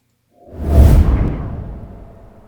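Three layered whoosh effects merge into one swelling rush that rises quickly, peaks near the start, then trails away in a long fading tail, alone with no talk.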